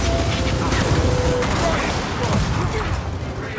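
Sustained heavy gunfire from the Gears of War 4 video game, with dense overlapping rapid shots and bursts throughout, loud and close, with game voices faintly underneath.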